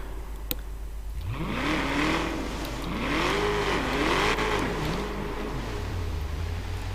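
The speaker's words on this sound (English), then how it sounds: "You definitely hear the car engine roar a lot louder when you do that." A car engine in Forza Horizon 3 roars and revs through rising and falling pitch sweeps, loud and up close, climbing hard then settling back to a steady drone toward the end.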